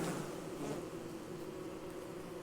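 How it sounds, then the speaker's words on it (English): A swarm of bees buzzes in Don't Starve, giving a steady, close, droning hum that holds without a break, with no voices. "there's not going to be enough bees to really hurt me"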